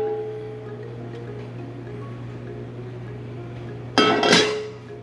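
Meat patties drop into a pan of hot oil, producing a sudden loud sizzle that bursts in and then slowly fades, after a steady hum of background kitchen noise.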